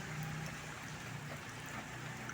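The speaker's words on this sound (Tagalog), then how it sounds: "Ito ang ulan." Rain falling steadily outdoors in the Philippines, a soft even broadband hiss without pauses, fairly faint and heard alone with no talking.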